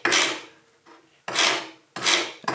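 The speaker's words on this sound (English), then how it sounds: "I'm going to brush them as good as I can." A brush rasps carbon off John Deere 755 engine head bolts in three distinct close scrubbing strokes, each a harsh bristly burst with short pauses between.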